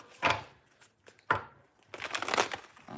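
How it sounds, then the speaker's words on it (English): Moonology tarot cards are shuffled close up in a few quiet, separate bursts of soft papery riffling and crinkling, the last burst longer, with no talking. "Okay, shuffle out Moonology card."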